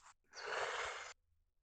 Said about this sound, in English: It's me yawning.